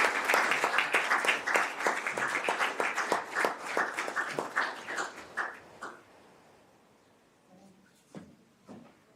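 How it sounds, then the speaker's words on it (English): Applause at a council meeting award presentation, moderate clapping from a small group that fades out after a few seconds, followed by a few isolated knocks and a brief voice. "Please come up and get a round of applause and a photo."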